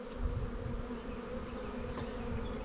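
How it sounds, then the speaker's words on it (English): Honey bees hum steadily around an opened hive, a dense, continuous drone close by over a frame of capped brood tended by nurse bees, with no voices. "Nurse bees taking care of it."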